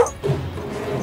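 A dog gives a single short bark or yip up close, followed by a tense low rumble of a film soundtrack.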